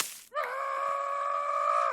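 A rat goat creature lets out a long, harsh, sustained goat-like scream, loud and close, holding a steady bleating tone for well over a second after a short burst of noise.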